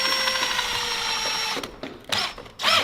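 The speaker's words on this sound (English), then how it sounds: "Got the drill in reverse." A power drill running in reverse during sword-breaker prop construction: a steady high motor whine for about a second and a half, then cutting off into short bursts of revving and mechanical clatter, close and loud.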